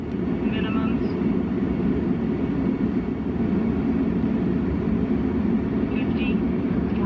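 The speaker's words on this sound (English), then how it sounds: "This is actual cockpit footage of a Boeing 737 coming into land." Boeing 737 cockpit during a landing approach, a loud steady roar of engine and airflow that fills the whole stretch, with faint tones and callouts over it.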